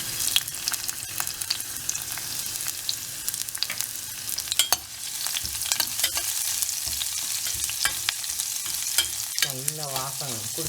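Ginger and garlic crackle and sizzle in hot oil for a mushroom kuzhambu, with a steady close frying hiss and sharp pops while a spoon stirs now and then.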